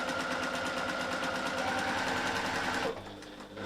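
Sewing machine running steadily as it stitches around a D-ring, loud and continuous for about three seconds before stopping, leaving quieter room noise with no talking.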